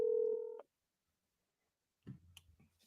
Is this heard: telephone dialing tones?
yes